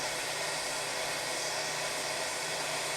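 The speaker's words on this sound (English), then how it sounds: "I'll get my hose here, heat it up a little bit, and you don't need a fancy heat gun like this." A heat gun blows a steady, loud hot-air roar on a fuel hose, constant and unbroken throughout, with no talking.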